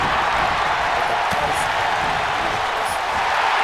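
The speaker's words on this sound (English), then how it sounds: "You can hear this crowd start to rally behind Davis as he's pretty much giving it his all right here against Vash here tonight." A dense, steady roar of a large wrestling crowd cheering and rallying behind a wrestler, continuous broad noise with a few faint shouts rising from it.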